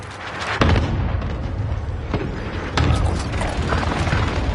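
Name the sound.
precision airstrike explosions in the video game Warzone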